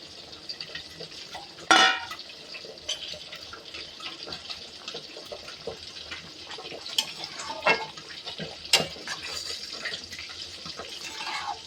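Fried fish pieces dropped into a simmering pot of potato and eggplant curry, with a sharp clatter of pot and utensil early on, then soft stirring, scraping and bubbling with scattered clinks.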